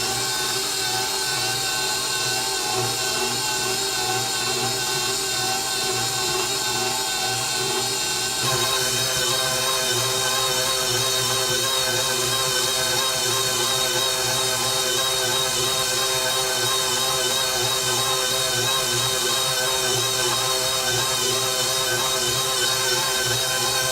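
Vegan cinnamon roll dough is churned in a stand mixer as about half a cup more flour is worked in, a steady loud motor whir with a continuous rhythmic hum that grows slightly fuller partway through, no talking.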